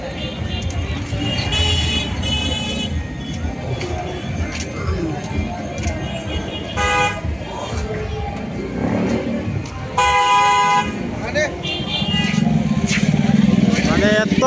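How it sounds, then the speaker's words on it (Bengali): Busy road traffic jammed near the Hailakandi Rabindra Mela fair in Assam, with engines and motorbikes, punctuated by several short car horn blasts, while people talk nearby. "মেলার লাগি কি আরে জাম লাগছে সামনের দিকে গাড়ি ঘোড়ার"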